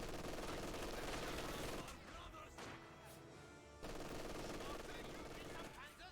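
In a Company of Heroes 2 match, an MG42 machine gun fires long, dense bursts within loud, busy battle noise, with a short lull between bursts and talk running underneath.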